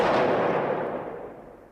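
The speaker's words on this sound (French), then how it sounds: "Les échanges de coups de feu vont durer environ 30 secondes." A single loud gunshot-like blast from an armed shootout inside an apartment building, with a sharp onset and a reverberant tail that fades over about two seconds.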